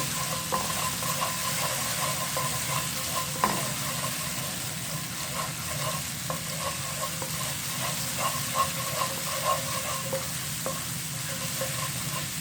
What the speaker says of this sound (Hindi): लहसुन का पेस्ट डाल दूंगा। इसको लाइटली फ्राई करेंगे।